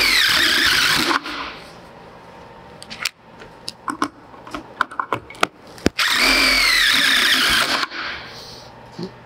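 A power drill drives fasteners through a purlin holder into a roof rafter, giving two sustained high whirring bursts separated by a stretch of scattered clicks and knocks, with no talking.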